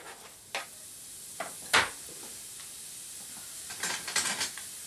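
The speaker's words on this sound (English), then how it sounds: "And we want to keep these frying until it caramelizes." Onion sizzles softly in olive oil in a pan, a low steady hiss broken by a few sharp clinks and scrapes of stirring, close and fairly quiet.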